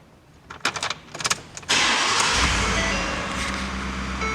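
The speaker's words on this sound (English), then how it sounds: "let me get the truck turned on" A Ford F-150 pickup's starter cranks in several quick churning bursts before the engine catches with a loud surge, then settles into a steady, close idle.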